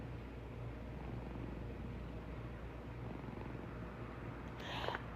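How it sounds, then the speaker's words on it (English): A pet cat purrs steadily while being rubbed on the leg, a low continuous rumble that stays close and fairly quiet throughout, with a brief higher rustle near the end. "Oh, you can hear my cat purring?"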